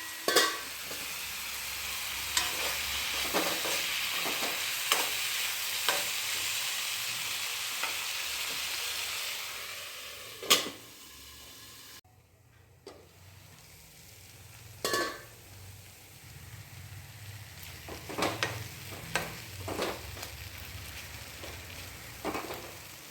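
Okra stir-frying on a low flame for ladies finger upperi: a steady close sizzle with a spatula scraping and clicking against the pan in repeated strokes, easing briefly midway before resuming.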